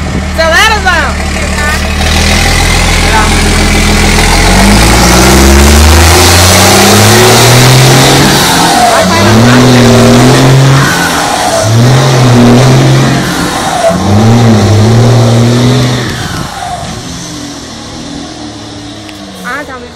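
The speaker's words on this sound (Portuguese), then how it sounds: "Não, dá uma aceleradinha, Zoião, no vermelho, dá uma aceleradinha." A car engine revs repeatedly in rising and falling surges, loud and close, while people shout and talk over it.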